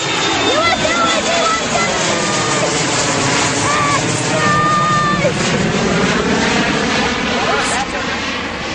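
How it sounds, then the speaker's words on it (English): A US Airways Embraer 170 jet taking off at Ronald Reagan Washington National Airport, a loud, steady broadband engine roar filling the whole stretch, with people talking over it. "US Airways Embraer 170. Plane"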